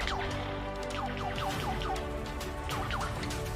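A lyrebird mimicking a laser gun fires a rapid run of descending electronic zaps, about a dozen sharp pew-like bursts repeating over a constant low background hum, fairly close and clear.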